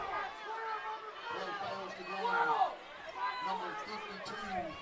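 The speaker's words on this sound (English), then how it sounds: "You might hear the crowd like they're talking about 12 men on the field" Crowd at a high school football game: a steady murmur of chatter and overlapping voices from the stands, with cheers swelling briefly midway, fairly near and continuous.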